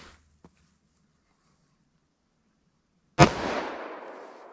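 A single sharp gunshot from a .45 Super pistol barrel firing a 185 grain load cracks loudly outdoors after a faint click, followed by a long rolling echo fading away.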